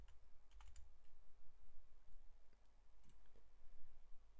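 Quiet clicking of typing on a computer keyboard, a few scattered keystroke bursts early and again toward the end, faint and close over low background hum, no talking.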